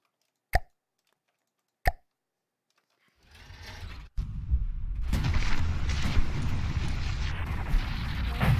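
Shots in a video game striking armor and glancing off: two sharp isolated cracks, then a rising mechanical rumble that swells into a dense, sustained clatter of impacts.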